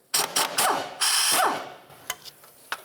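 Ratchet working a 10mm bolt off the rear strut area of a 1999-2003 Toyota Solara, several quick clicking ratchet bursts close up, followed by a few sharp metallic taps.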